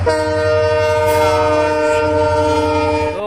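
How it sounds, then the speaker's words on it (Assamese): A large train passes close by on the railway near a plant nursery in Makri, Goalpara, its loud sustained horn blaring over the rumble of the wagons. "একদম ৰেল জক জক জক জক কৰি গৈ আছে"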